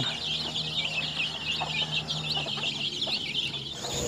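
Backyard chickens cluck and chatter continuously at moderate distance, a busy overlapping flock sound with a steady high bird chorus and some soft background noise.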